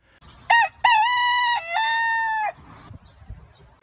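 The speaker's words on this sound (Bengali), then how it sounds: "দূরের কোনো গ্রাম থেকে ভেসে আসে মোরগের ডাক।" A rooster crows at dawn from a distant village in half-darkness by a lake: one long, clear, drawn-out crow that breaks into a second held phrase, then fades into a soft, faint hiss.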